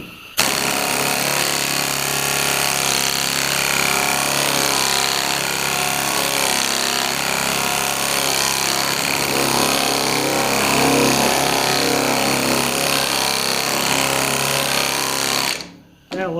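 Steady, continuous power sanding of body work on a 1966 Ford Galaxie 500 convertible door, a loud close whirring grind running unbroken for about fifteen seconds before cutting off abruptly.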